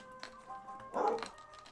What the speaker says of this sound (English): And now we're barking at the neighbours.